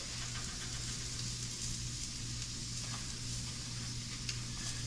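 Pork tenderloin sizzling on a grill, a dense, steady hiss of searing meat that runs loud and unbroken from start to finish.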